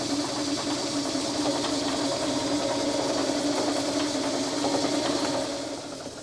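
A drill boring a hole about an inch and a half deep in a part for a restored 1930s Craftsman bandsaw: a loud, continuous mechanical whir with a faint rattle, holding steady before easing off at the end, with no talking.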